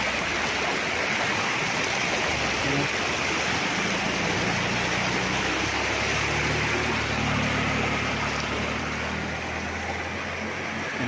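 River water flows steadily in a broad, unbroken rush at moderate level beside a farm lot in Real, Quezon, with no voices over it.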